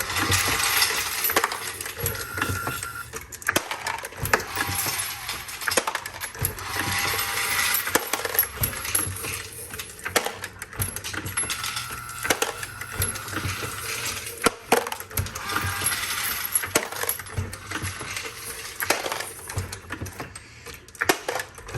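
A Mark 7 Revolution progressive reloading press runs continuously, loading 124 grain full metal jacket rounds, with a steady stream of rapid metallic clicks, clacks and falling-case clinks at close range, without pause or talk.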